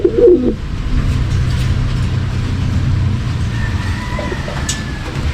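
Racing pigeons coo in a loft, low soft murmuring calls close by over a continuous background rumble, with a faint whistle-like tone later and no talk.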